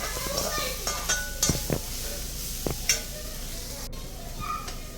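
Spinach and grated coconut are stirred in a pan while cooking, with a soft sizzle under scraping and clinks from a spoon against the pan, as someone talks over it.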